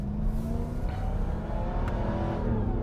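A RAM 1500 TRX pickup truck's big engine revs hard and accelerates, a loud, steady, throaty roar with rising tone that carries on without a break, close by and with no talking.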